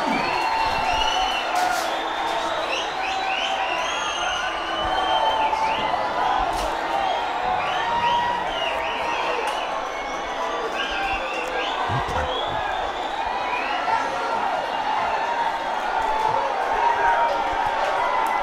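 A football crowd murmurs and stirs at Port Vila Stadium during an OFC Champions League final between Amicale FC and Auckland City FC, a steady dense roar of spectators under continuous commentary talk.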